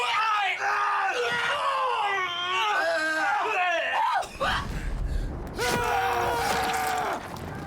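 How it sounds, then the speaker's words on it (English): Screams recorded for a charging moment in the Battlefield video game: loud, drawn-out yelling and shrieking voices layered together like a crowd, breaking into a rough noisy burst midway before the massed screams return. "all the screams you hear in the game for that charging moment were here"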